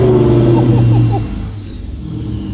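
A sports car engine revs on a mountain pass, a loud close roar that climbs and falls away over about a second, leaving a low idle rumble.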